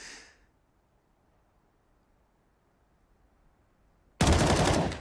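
Gunfire from a Counter-Strike: Global Offensive match, pro esports play between Heroic and Virtus.pro at IEM Katowice 2022: a brief faint burst at the start, near silence, then a loud sustained burst of shots closing the clip.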